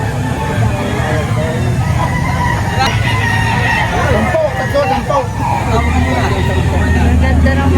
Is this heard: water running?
no